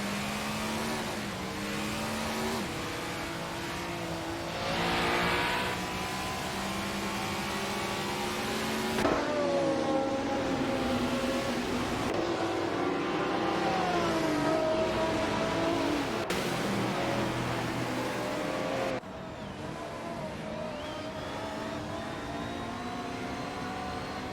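Race cars in a video game race, Group 6 class, with engines droning and whining in rising and falling pitch as cars shift gears and overtake, steady and loud throughout with abrupt cuts between views.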